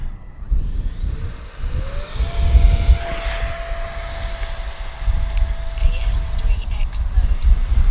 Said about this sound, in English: what an easy little jet to fly